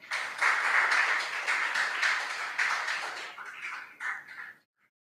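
An audience claps for contestants at a school quiz competition, a steady wash of mixed applause from a room that thins out and fades after a few seconds, with no clear talk over it.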